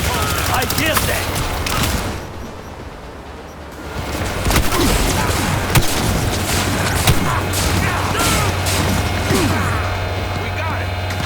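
Dense gunfire and explosions from the video game Cyberpunk 2077 sound as loud, rapid cracks and booms, with a short lull before the barrage resumes under shouted voices.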